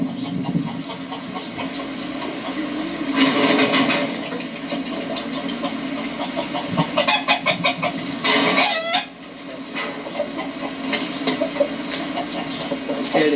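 Chickens cluck and a rooster crows repeatedly in a coop, in rising bursts of squawks and clucks over a faint steady engine hum, fairly close.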